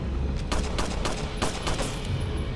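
Gunshots from the Resident Evil 4 video game ring out in a quick, irregular burst of several sharp cracks over a steady noisy game background, fairly close and with no talking.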